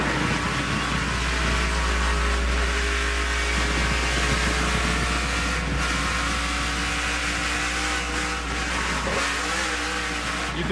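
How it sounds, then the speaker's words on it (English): A NASCAR race car's engine roars steadily at close range, loud and sustained, with the whine of a rear tire spinning mixed into the drone. "You could hear the rear tire spinning."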